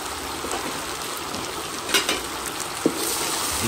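Ridged gourd pieces sizzle and fry in a pan with pork, a steady close hiss with a few brief clatters of stirring.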